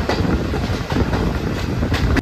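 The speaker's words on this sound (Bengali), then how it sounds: "আমি এখন আছি আগরতলা রেল স্টেশন।" A train at Agartala railway station rumbles and clatters continuously at close range, with a steady rolling clickety-clack of wheels on rails.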